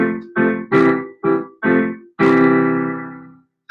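Piano playing the last line of a Level 5 ballade: five short, separated chords in a steady rhythm, then a final held chord ringing out and fading, clear and close with no talking.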